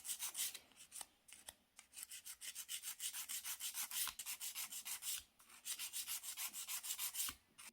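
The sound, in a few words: filing gel nail extension with a nail file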